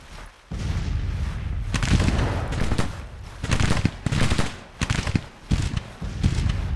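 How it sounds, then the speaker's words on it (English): Gunfire in the strategy game Grand Tactician: dense volleys and crackling bursts of shots, loud and sustained, rising and falling in waves with short gaps between barrages. "Oh, you're shooting at me?"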